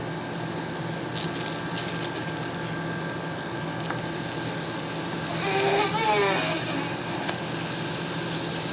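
Three beef steak patties sizzle in melted butter in a hot pan, a steady broadband frying hiss throughout, with a brief louder surge and faint clinks partway through.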